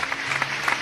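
A congregation at a church service claps together in a brief, steady burst of applause with a few sharper individual claps standing out.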